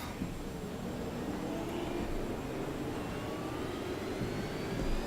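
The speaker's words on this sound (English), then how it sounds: "Rise the revs and we're off." A video game racing car's engine roar holds for several seconds at the start of a race, broad and loud, with a faint rising whine threading through it.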